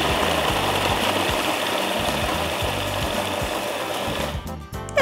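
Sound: blender blending cheesecake base ingredients

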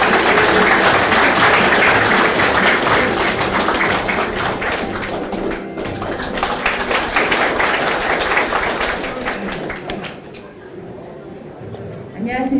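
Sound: audience applause

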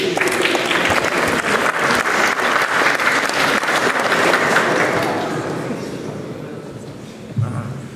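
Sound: audience applause at outdoor poetry concert

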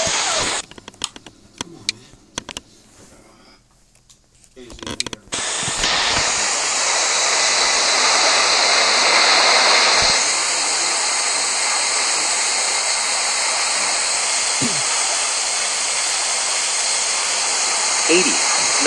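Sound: airplane jet engine taking off, Real Flight Simulator video game

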